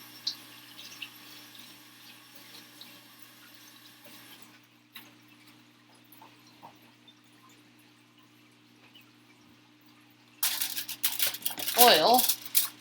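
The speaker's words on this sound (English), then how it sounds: "Then hands get washed." A kitchen tap runs near the end of the clip while hands are washed under it, giving loud splashing and rushing water after a long stretch of quiet handling noise and faint crinkling of foil.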